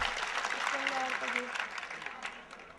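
Audience applause at a Hindi poetry recital, a dense, steady patter of clapping from a crowd that continues for a few seconds, with a voice briefly audible beneath it before it begins to thin out.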